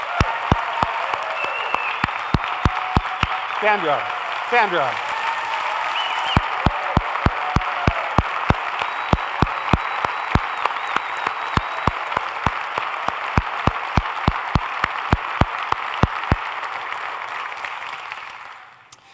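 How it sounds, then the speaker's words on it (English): A church congregation gives a long, loud round of applause for Sandra Campbell, with dense clapping and a few cheers sustained for many seconds before tapering off at the end; a name is briefly called out. "Give her a round of applause."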